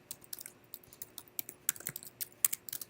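Someone types C# code on a computer keyboard, with quick irregular clicks of keystrokes, close and fairly quiet, and nothing else in the background.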